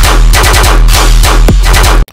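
Rapid machine gun bursts used as sound effects in a heavy dubstep track, firing in rhythmic stuttering runs over a booming sub bass, very loud and dense, cutting off abruptly at the end.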